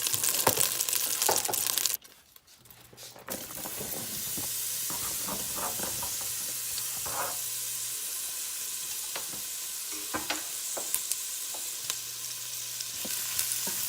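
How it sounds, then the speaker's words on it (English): Onions sautéing in melted butter for vegetable soup give a steady, close sizzle with scattered crackles and stirring clicks, briefly dropping out near the start before the frying hiss returns and holds. "And now we're going to let those onions just start sauteing just a few minutes."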